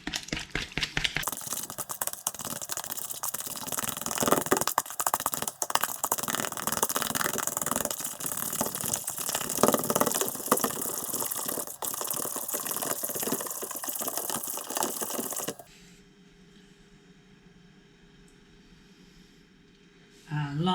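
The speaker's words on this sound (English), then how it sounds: "And we continue whisking to get those added in as well." A whisk beats white chocolate and raspberry traybake batter in a bowl, a steady, loud scraping churn running for about fifteen seconds before it stops abruptly, leaving quiet room tone.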